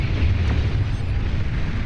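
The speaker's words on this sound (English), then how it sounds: "Shiva firing away their assault missiles, trying to blast down any of these static units that they can." A dense, rumbling roar of assault missile explosions from Shiva units in an 8v8 Beyond All Reason deathmatch, continuous and loud with heavy low-end boom and no distinct individual blasts or speech.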